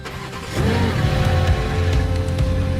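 A freshly rebuilt car engine cranks and catches, then settles into a steady, close idle with a low rumble, heard alone.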